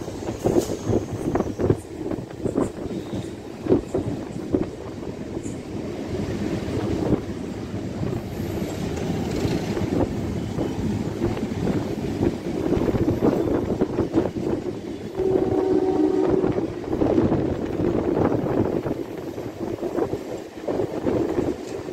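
MMTS local train in Hyderabad running between Charlapalli and Sanathnagar, a steady rumbling rattle of wheels and carriage with wind rushing past and a brief tonal squeal midway, recorded from on board.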